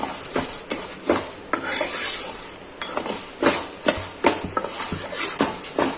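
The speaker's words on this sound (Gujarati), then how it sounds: "ઘીમાં આપણે સાબુદાણાને બેથી ત્રણ મિનિટ માટે શેકી લેવાના છે" Sago pearls roasting in a little ghee over medium heat, stirred with a spoon that scrapes and clinks against the pan in repeated strokes over a light sizzle, close and fairly loud, without any speech.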